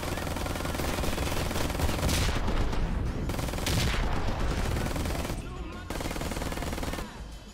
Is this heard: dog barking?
no